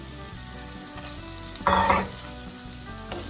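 Beans frying with whole moong dal in a pan, a low steady sizzle close by with light stirring, and one louder burst of hissing and scraping partway through, with no talk.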